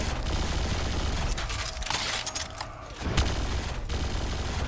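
Rapid gunfire from an Infinite Warfare gun in the Call of Duty Black Ops video game rattles in dense automatic bursts, briefly thinning before resuming.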